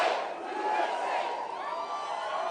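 A large crowd at a Donald Trump rally in Knoxville cheers and roars continuously, a dense sustained wash of voices with no pause.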